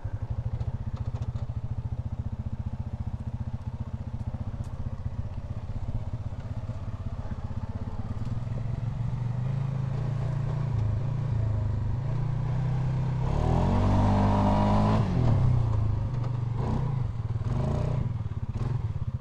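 A 2023 Polaris Sportsman 570 Ride Command ATV engine drones steadily while riding on a dusty trail, then revs up higher and louder for a few seconds before settling back.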